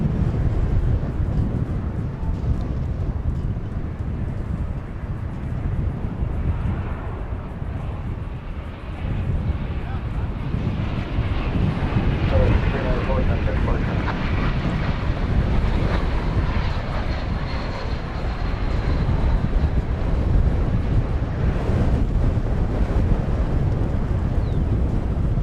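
American Airlines flight 2579 from Denver passes near DFW Airport as a sustained, loud jet roar that swells and lingers with wind buffeting the microphone, while someone talks over it at times.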